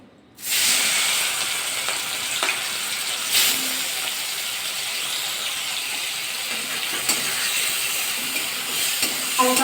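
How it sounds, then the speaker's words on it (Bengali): Prawns drop into hot oil and fry, a sudden loud sizzle that settles into a steady bubbling hiss, close up, with a few soft clinks of utensils. "এই তেলের মধ্যে চিংড়ি মাছগুলো ভাজা করে নেব"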